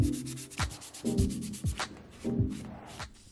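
Bondo body filler being sanded on a cardboard Green Goblin helmet: close, rhythmic abrasive strokes in a steady back-and-forth pattern, each rub a short, gritty swish.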